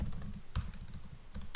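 Fingers type on a computer keyboard nearby, quick, soft clicks in short uneven bursts with a few sharper key strikes, no voices.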